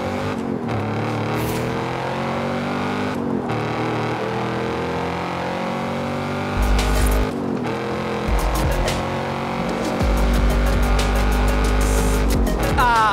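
A car pulls up in the Forza Horizon racing game, its engine running steadily with low rumbling and a few gear changes, shifting revs and swelling louder near the end, heard alone with no talking.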